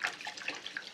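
Milk and potato broth are poured into a bowl for pirozhki dough, heard as a brief close liquid splash and trickle lasting about a second.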